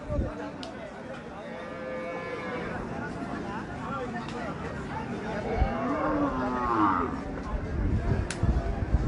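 Cattle at a Bangladeshi cow market moo in several long, drawn-out calls, some near and some farther off, over a busy crowd of people talking and general market bustle.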